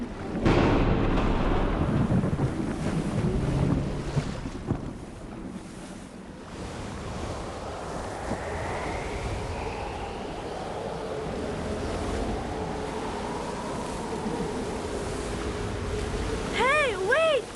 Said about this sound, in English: The storm is gonna be a big one.